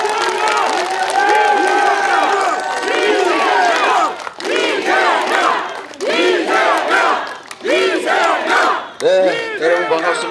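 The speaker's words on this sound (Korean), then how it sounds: "박수 한번 부탁드리겠습니다." A large crowd roars and shouts at a political rally in Gunsan for Democratic Party leader Lee Jae-myung, a dense, loud wall of cheering and chanting voices with brief dips between surges.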